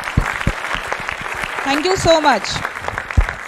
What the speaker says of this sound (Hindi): आप सभी लोग जोरदार तालियां बजाकर अस्मी फाउंडेशन का उत्साहवर्धन करें।